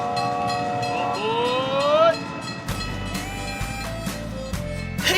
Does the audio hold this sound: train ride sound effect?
yes